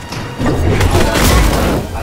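A bazooka explosion in the Fortnite video game gives a loud, deep boom with a rumbling blast that sustains for well over a second before easing off, with no speech over it.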